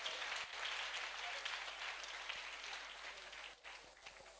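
A crowd claps continuously at a TVET college event with the Minister of Higher Education, a dense, even patter of many hands heard from within the room, with faint voices mixed in.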